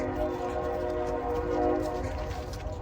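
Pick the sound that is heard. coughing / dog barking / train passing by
train passing by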